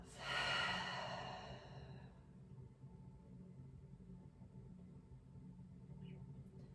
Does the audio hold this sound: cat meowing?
no